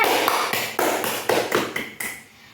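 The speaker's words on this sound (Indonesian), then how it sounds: "kasih aplaus untuk teman-temannya" Classmates give applause in a classroom: a short run of sharp, rhythmic claps, close and fairly loud, fading out after about two seconds.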